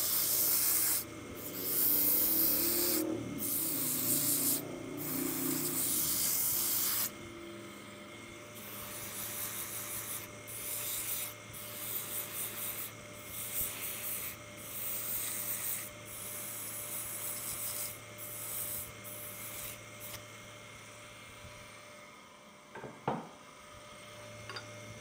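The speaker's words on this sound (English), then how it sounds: "Gonna do a little bit of sanding here just to" Rhythmic rubbing strokes of sanding to finish shaping a snowman figure, loud and rasping at first, then lighter and more intermittent, with a thump near the end.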